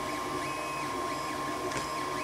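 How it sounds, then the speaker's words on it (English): A 3D printer running steadily while printing a Mayan death whistle, giving a continuous mechanical whir with sweeping motor tones and a brief higher whine near the end, heard alone at close range. "Okay, so I put on the printer."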